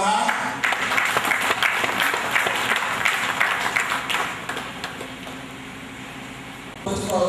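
A church synod assembly breaks into applause, sustained hand-clapping from the gathered audience that rolls on for several seconds and then thins out near the end.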